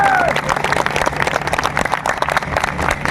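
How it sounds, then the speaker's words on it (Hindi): An audience at a direct-selling motivational speech on stage claps in a dense burst of applause that carries through the whole moment, fairly loud and close, with a voice briefly audible at the start. "इस टाइम से शो को कराने के लिए एक बहुत बड़ी ताली रॉयल इंडिया वेकेशन के लिए"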